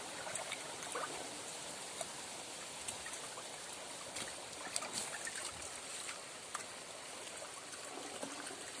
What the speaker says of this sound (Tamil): கேட் வாலில் திறந்து விட்டு கேட் வாலில் தண்ணி போயிட்டுருக்கு, தண்ணி பாஞ்சிட்ருக்கு